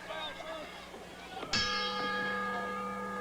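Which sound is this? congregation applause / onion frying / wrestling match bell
wrestling match bell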